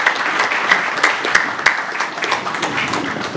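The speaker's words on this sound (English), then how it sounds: "I'd just like us to give a hand of applause to our distinguished speakers" Audience applause for distinguished speakers at a UK-Africa conference session on Uganda's green energy and oil investment: steady, dense clapping from a sizeable room that holds at an even level for a few seconds with no voices over it.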